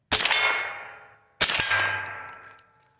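Two sharp shots from a Smith & Wesson M&P 15/22 rifle about a second and a half apart, each a loud crack ringing out and fading over roughly a second.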